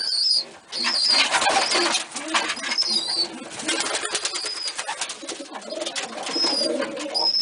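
Pigeons coo softly and repeatedly while wings flap in bursts close by, with scattered chirps in a busy loft; no one speaks.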